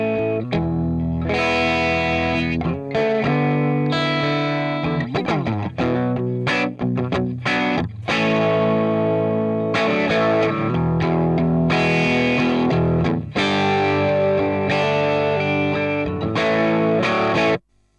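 Distorted electric guitar played through a Fender Tweed amp, loud and continuous with chords and bent notes, spongy gritty overdrive filling the whole stretch before stopping abruptly at the end.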